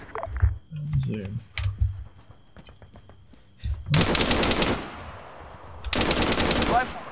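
Bursts of automatic machine gun fire in Arma 3, two long loud rattling volleys separated by a pause, with scattered fainter shots and game noise in between.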